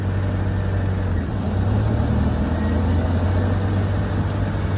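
A newly repaired car runs steadily through its gears, a continuous close engine drone with a strong low hum that barely changes across the stretch, with no talk.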